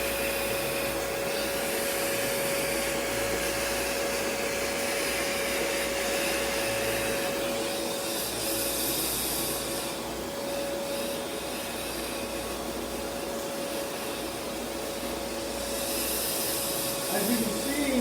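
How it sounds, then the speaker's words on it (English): An Oneida cyclone dust collector running under suction, a loud, steady whooshing roar with a constant high whine that holds for the whole stretch, close by and unbroken. "Pretty cool little cyclone there we got going."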